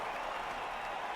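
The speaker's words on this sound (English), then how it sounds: "So, cheering fans" Fans in a video game match cheer as a steady, dense crowd roar with mixed applause, holding an even level throughout without breaks or clear individual voices.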